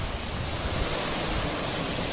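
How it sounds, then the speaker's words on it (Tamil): Steady, full rush of flowing water at a nature retreat in Munnar, loud and continuous with no voices over it. "தண்ணி சத்தம் கேட்குது."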